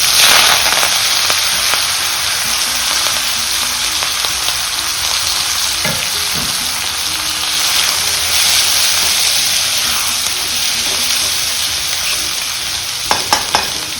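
Mustard seeds, cumin and curry leaves sizzle and crackle steadily in hot oil for a bean and dry fish curry, with a few sharper pops and stirring clatters near the end, no talking.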